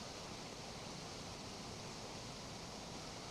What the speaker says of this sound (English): I can hear the sound of rushing water over there again.